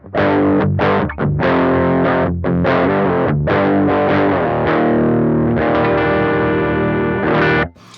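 A Beetronics FX Wannabee pedal set to full clean blend colours a loud, sustained electric guitar with buzzy fuzz, strummed chords with short gaps between them, then one long ringing chord that cuts off.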